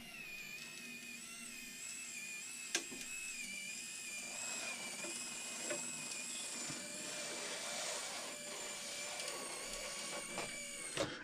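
A winch motor runs steadily on a Toyota Tundra pickup truck, giving a continuous high electric whine with a slight wavering pitch and a few faint clicks and knocks, and no one speaks.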